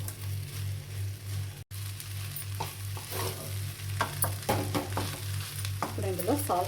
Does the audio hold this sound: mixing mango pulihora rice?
yes